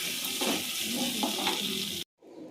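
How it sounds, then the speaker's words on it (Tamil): Oil heating in a hot iron pan for egg and plantain gravy, a steady close sizzle and crackle filling the space for about two seconds before cutting off abruptly to a quieter, muffled kitchen background. "இந்த பாருங்கள் இரும்பு சட்டி காய வச்சு எண்ணெய் ஊற்றிட்டேன்"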